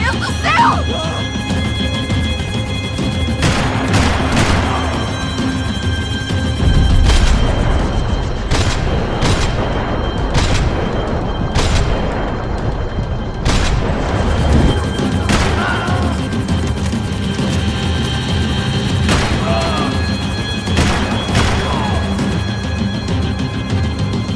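Gunfire in Max Payne 3 during a vehicle chase, repeated sharp shots and crashing impacts scattered over a steady engine rumble, with shouting voices in between.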